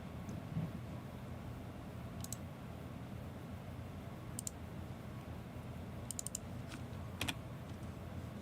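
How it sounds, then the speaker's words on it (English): Typing on a computer keyboard, a steady stream of soft key clicks with a few sharper taps, close and moderately quiet over a constant background hiss, with no voices. "I can get a whole bunch of typing done"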